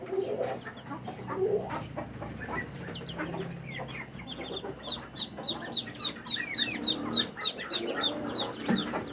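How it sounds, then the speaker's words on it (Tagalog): Native chicken chicks in a brooding cage, with many small high peeps chirping continuously and overlapping at close range, over a low background hum and some clucking. "Mga native chicken yan mga kaibigan, mga chicks ng native chicken."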